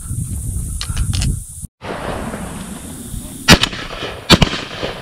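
Shotgun blasts ring out during an outdoor dove hunt, two sharp, loud reports a little under a second apart near the end, after wind noise and a brief dropout, with some rustling in between.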